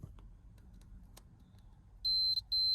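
After a quiet pause with faint handling noises, a continuity tester touched to a gold contact while fitting Ford RS parts beeps twice in quick succession with a high electronic tone, the second beep held longer.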